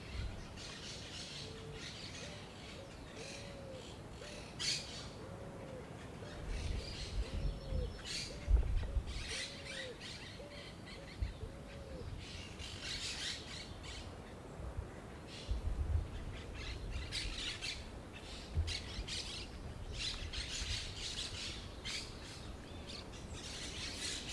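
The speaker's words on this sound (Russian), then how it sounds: "И смотрите, сколько птиц здесь." Many birds chirp and squawk at once in a dense, continuous chorus at an oceanside campground in Argentina, with scattered louder calls rising over the steady outdoor din.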